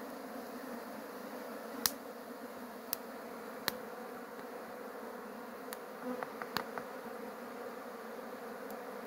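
Bees buzzing steadily around a honey nest in a dry stump outdoors, a continuous close hum with a few sharp clicks and taps.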